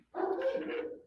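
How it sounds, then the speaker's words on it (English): A single dog bark, short and fairly faint, sounds in the background on its own, one clipped woof lasting under a second. "So I apologize for the dog barking in the background now."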